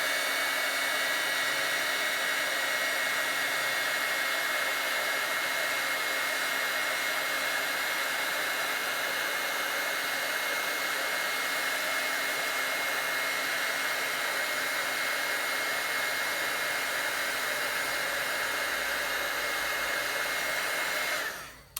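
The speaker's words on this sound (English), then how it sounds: "I'm going to hit this with my heat tool once again" A heat tool blows a steady, loud whooshing hum over inked card stock, unbroken for about twenty seconds before switching off abruptly.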